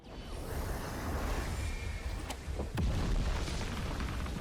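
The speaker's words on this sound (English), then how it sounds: "we had like a beast thing spawn in and do a giant explosion" A giant explosion from a spawned beast ability in the Anime Vanguards video game, a deep rumbling boom with a sharp crack near the middle and sustained low roar, no talk.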